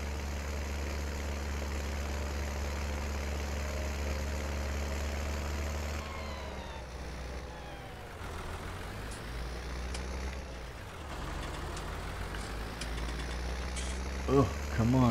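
Tractor engine in Farming Simulator 19 with a heavy trailer, a deep steady diesel idle droning throughout, with the pitch sagging and recovering under load near the middle and a brief clank near the end.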